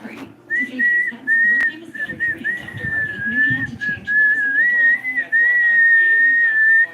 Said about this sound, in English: You can't whistle when you got smoke in your mouth.